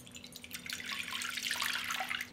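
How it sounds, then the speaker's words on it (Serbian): About 200 ml of lukewarm water is poured into a bowl, a steady splashing trickle that rises slightly in intensity as it continues, heard close and alone with a faint hum beneath. "Sipat ću u činiju 200 ml mlake vode."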